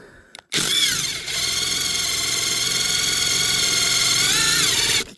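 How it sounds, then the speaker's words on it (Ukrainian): An electric drill fitted with an 8 mm bit bores into a steel hammer, a loud continuous high whine with a brief dip near the start, running about four and a half seconds before cutting off. "І точно таке саме свердло, тільки восьме. Реально набагато лучше свердлить."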